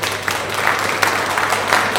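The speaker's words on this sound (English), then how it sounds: "So can we get a round of applause for Glenn for coming out?" Audience at an election hustings applauding the host, a steady patter of clapping hands throughout, moderately loud and close, with no talk over it.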